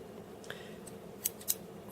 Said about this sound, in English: These are some scissors for sideburns or whatever